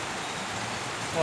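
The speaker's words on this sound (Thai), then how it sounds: "ฝน" Rain falls in a steady, soft, broadband patter for just over a second, rising slightly at the end.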